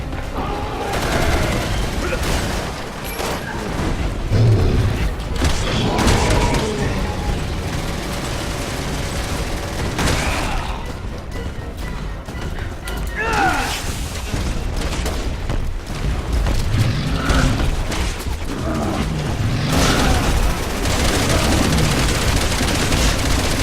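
Gunfire from snipers in the video game Resident Evil 6, amid heavy, continuous shooting and booming blasts that run throughout, with a voice talking over the din.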